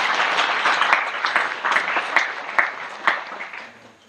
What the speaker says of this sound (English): Everybody give me a round of applause.